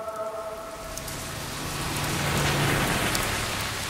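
Steady rain falls across a rain-soaked Boston, a dense even hiss of drops on surfaces that swells slightly louder partway through, with no voices.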